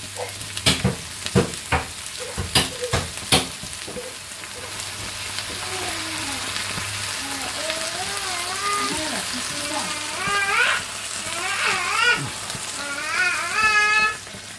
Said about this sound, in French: Donc alors après, on met un petit peu d'eau.